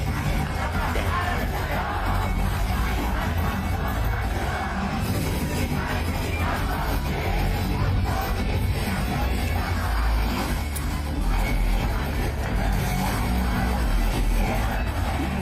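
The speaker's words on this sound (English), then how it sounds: "the crowd is singing it" A concert crowd sings along loudly in a dense, continuous mass of voices with yells and whoops, steady and unbroken throughout, sounding roomy and slightly distant.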